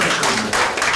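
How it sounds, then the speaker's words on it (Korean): A short burst of audience clapping rings out at a public visit event in Korea, a dense round of hands applauding together for about a second. "박수 한번"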